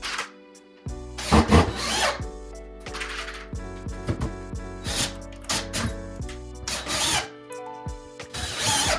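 Power drill driving screws to anchor wooden closet base pieces to wall studs, in bursts of rising and falling whine with knocks and rubbing of wood between runs, fairly close.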